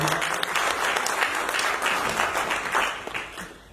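Loud, dense applause from an audience at a Merchants' Chamber event in Kanpur, a steady roar of many hands that tapers off at the end.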